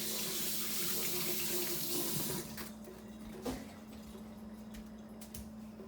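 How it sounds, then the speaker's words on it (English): Water runs steadily from a kitchen tap for a couple of seconds as hands are washed, then the flow cuts off, leaving faint clatter and low room hum. "what I'm gonna do is wash my hand"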